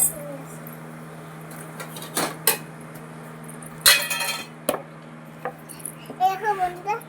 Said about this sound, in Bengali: সমস্ত বাটি নিয়ে আসছে।